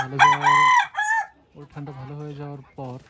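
An older desi farm hen, the mother of the flock, lets out loud, close, strained clucking cries in three bursts with short gaps, the first drawn out like a crow.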